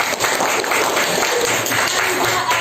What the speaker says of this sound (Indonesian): Tepuk tangan ya dulu